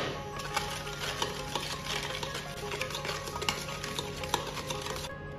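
A spoon stirs a sauce of dark soy sauce and lard paste in a bowl, making steady, continuous scraping and clinking close up, with no talk.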